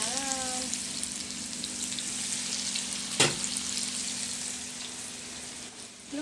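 Vegetables and liver frying in a pan, a continuous close sizzle with a faint steady hum underneath and one brief clatter partway through, with no talking.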